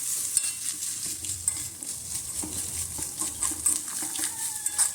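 Grated coconut being stirred and roasted in a pan for a Kerala erissery with pumpkin and red cowpeas, giving a steady close sizzle with soft scraping strokes, no voices.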